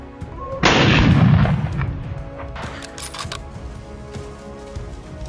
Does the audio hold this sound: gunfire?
yes